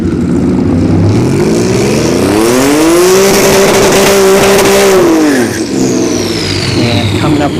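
A V6 turbo S197 Ford Mustang makes a drag racing run at a dragstrip test-and-tune session. The engine is loud and close, revving in a rising sweep, holding high, then dropping sharply as it shifts or lifts.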